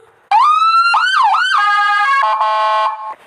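A video game's electronic ambulance siren wails, rising and falling, then switches to a faster yelp and a steady two-tone pattern, loud and close.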